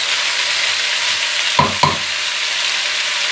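Onions for onion soup fry gently over low heat in a steady, hissing sizzle, with two quick knocks of a utensil stirring them partway through.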